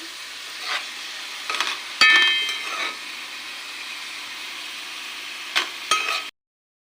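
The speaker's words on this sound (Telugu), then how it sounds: "ఆనియన్స్ వేసి బాగా ఇలా దోరగా వేయించుకోవాలి" Onions frying in oil for a fish curry, a steady soft sizzle with scattered stirring scrapes and a few sharp clinks of a utensil against the pan, close by and without talk, ending abruptly.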